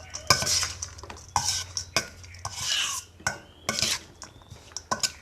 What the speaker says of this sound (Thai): แล้วก็คนให้มันเข้ากัน